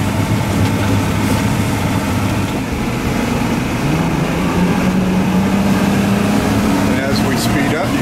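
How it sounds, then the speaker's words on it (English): Boat motors on a Sea Tow vessel hum loudly and steadily as it leaves a slow zone into light wake, the engine pitch rising gradually toward the end, mixed with wind and water noise. "And as we speed up, you can hear the motors rev."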